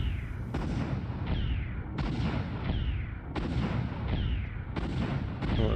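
Gunfire in the video game Tomb Raider III, set in an Antarctica level: loud, booming shots at regular intervals of about a second and a half, each with a sharp attack and a long decaying tail.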